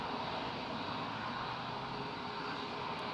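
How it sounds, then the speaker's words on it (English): Airbus A320 departing Newcastle for Belfast, a faint, distant, steady jet engine rumble that stays even throughout with no voices. "Just waving this A320 off to Belfast."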